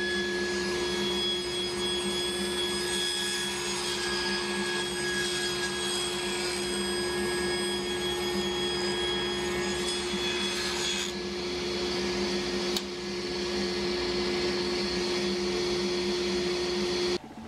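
Band saw with a 3/8-inch, 3 TPI blade cutting thin wood strips against a sacrificial push block, a steady loud whirring hum with a tonal whine lasting throughout, shifting slightly as the cut ends.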